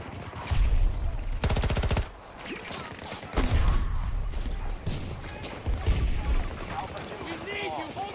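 Submachine gun fire in Battlefield 2042 on the Haven map: a rapid, loud burst of about a second, with scattered shots and battle noise around it and someone talking over the action.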